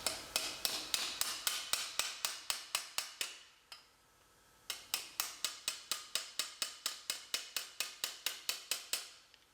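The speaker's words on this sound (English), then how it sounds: "we use our frame straightener to straighten out this bracket" Steel truck bumper bracket from a 2007 GMC Sierra hammered on a frame straightener used as an anvil: rapid, loud, ringing metallic blows in steady rhythm, a short pause, then another long run of strikes.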